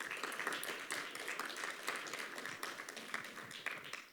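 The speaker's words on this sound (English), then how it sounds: "Could we please give them a round of applause?" Faint, moderately dense applause from an audience thanking panelists at an academic talk on spatial audio and immersive media, steady claps with no voices over it.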